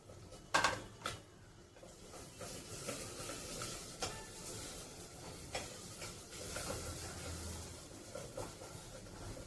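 Onions cook in a pan for pav bhaji, giving a steady low sizzle with occasional stirring scrapes and clinks, fairly faint and continuous with no talking.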